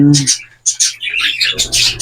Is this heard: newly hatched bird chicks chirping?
yes